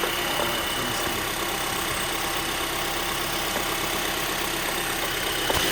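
Engine of a 2012 Honda Accord running in place with the shifter being moved: a steady, even hum and rumble throughout at moderate level, with no clear change in pitch.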